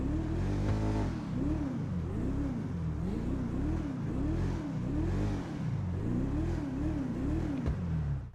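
The Enus Deity car from GTA 5 Online revs repeatedly in a rhythmic rise-and-fall pattern, its engine note climbing and dropping over and over, loud and close with no talking.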